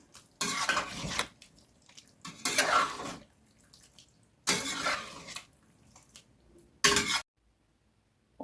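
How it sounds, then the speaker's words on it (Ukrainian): A pot of potato and meat ragout with fresh dill being stirred, giving four separate bursts of scraping and wet clatter with quiet pauses in between, fairly close and moderately loud, with no talking. "Зараз все так акуратно перемішую"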